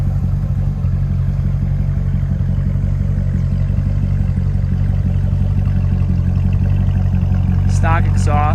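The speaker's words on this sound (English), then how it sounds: "Stock exhaust. We just leave the exhaust valves open." A Corvette C6 Z06 track car with stock exhaust and its exhaust valves open holds a steady, loud, low rumbling drone, with a brief higher whine near the end.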